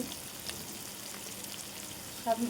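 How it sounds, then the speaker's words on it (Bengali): A chicken liver noodle mixture frying in a pan, a soft, steady sizzle with faint crackles throughout and a brief stirring clatter near the end. "ভালো করে ভেজে নিব"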